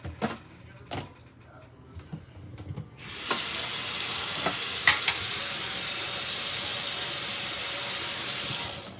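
Cheese tortellini with spinach and chicken cooking in a pan, heard first as faint clinks and scrapes, then a loud, steady frying hiss that fills the rest of the time, with no talk over it.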